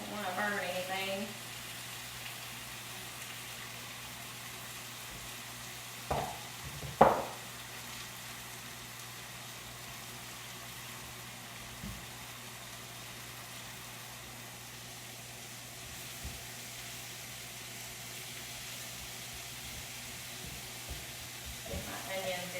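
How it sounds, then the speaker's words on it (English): Onions frying in canola oil in a Pampered Chef grill pan, giving a steady low sizzle throughout, with a few louder clatters and scrapes near the middle and end. "gonna pour just a little bit more olive oil in there for the sake of those onions"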